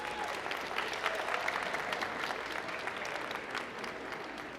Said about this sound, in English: So quick round of applause and thank you for them.